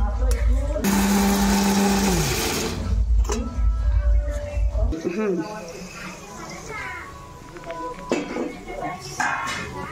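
A kitchen mixer grinder whirs loudly, grinding peanuts in short bursts before switching off, followed by clattering dishes, people talking and children's voices nearby.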